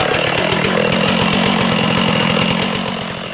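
A chainsaw roars steadily while cutting through a standing tree in a large forest, loud and close, with a continuous buzzing drone that eases slightly at the end.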